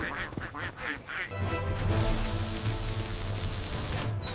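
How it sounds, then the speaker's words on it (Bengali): Cartoon ducks quack in a rapid, loud series over a busy animated soundtrack, with music and effects running underneath throughout. "এই হাঁসগুলো খুব ডেঞ্জারাস পালাও"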